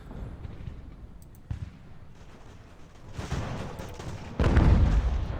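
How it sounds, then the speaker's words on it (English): Mortar fire in the naval strategy game Ultimate Admiral: Age of Sail, muffled booms and distant cannon-like reports building up to a louder, heavier blast near the end. "Alright, here come the mortars now."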